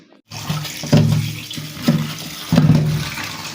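Cabbage is rinsed under a running kitchen tap, the water splashing and gushing close by, swelling in several bursts as the leaves move through the stream, with no one speaking.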